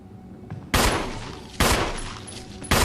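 Gunshots fire at a zombie in the video game Resident Evil HD Remaster: three loud, sharp shots spaced roughly a second apart, each followed by a short decaying echo.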